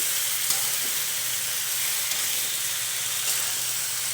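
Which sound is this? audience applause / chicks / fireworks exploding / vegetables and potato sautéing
vegetables and potato sautéing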